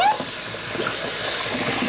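Water hisses and rushes steadily as the water in a bowl is poured out and replaced with clean water, a continuous broadband flow close by with no pauses.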